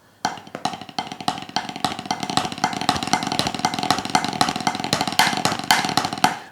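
Rapid paradiddle drum strokes blur together into a continuous buzzing roll, speeding up after a sudden start and staying loud and dense throughout.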